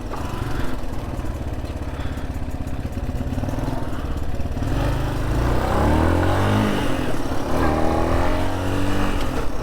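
A 1993 Honda CT200 Auto AG motorcycle being ridden off-road, its small single-cylinder engine droning loud and close throughout, with the pitch rising and falling as the rider changes speed.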